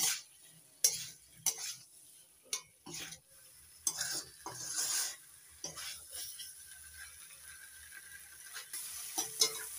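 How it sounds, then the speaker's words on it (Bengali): Fried potatoes stir-fried with spices in a pan, irregular bursts of spatula scraping and clinking against the metal over a light sizzle, close and fairly clear, no one speaking. "মশলার সঙ্গে আলুগুলো ভালো করে কষিয়ে নিচ্ছি।"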